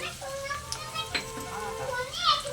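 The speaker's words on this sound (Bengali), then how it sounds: "একসঙ্গে ভালো করে কষে নেব।" Ground turmeric, chili, cumin, coriander and Kashmiri chili powder fry with salt in a pan for egg curry. A soft, quiet sizzle carries faint stirring scrapes over a few seconds.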